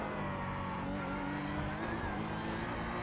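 A race car in the iRacing game drops its engine note under heavy braking, a steady, dense mechanical drone with shifting tones that runs unbroken throughout.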